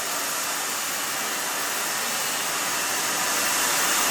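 A hair dryer blows continuously on wet hair, a close, loud, steady airy whoosh that holds unchanged from start to finish.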